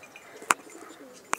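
Two soft, brief coos from an old breeding pigeon sound close by against a quiet background.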